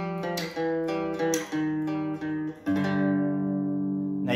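Three-string blues lick on guitar with slides, played up the neck and then open: a run of plucked notes with gliding pitch changes ending on a long ringing chord, close and solo without speech.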